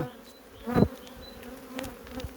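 Honeybees from a calm spring colony, bright with pollen, buzzing softly over the frames during a hive inspection, a low steady hum with a brief louder burst as a bee passes close.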